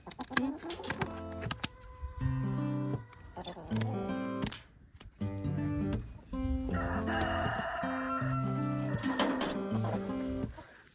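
A chicken being handled for flight-feather trimming on a homestead clucks and squawks loudly and close by, with a rooster crowing repeatedly through the clip and brief gaps between outbursts.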